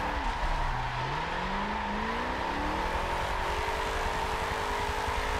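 A car drifting sideways in the Forza racing game, with a loud, continuous engine drone whose pitch dips and climbs through gear changes and a handbrake flick, with hints of tire squeal.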